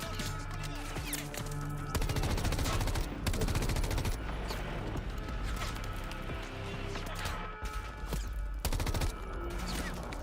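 Dense video game gunfire with rapid bursts and overlapping shots rattles on continuously, loud and close, as a shooter plays out in the gameplay.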